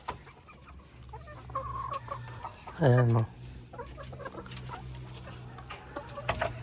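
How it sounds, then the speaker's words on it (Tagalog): Four hens cluck and mutter in a cage nearby while someone talks, with one loud, sharp squawk cutting through about halfway. "Ayan, apat sa isang kulungan, 4 na pirasong manok."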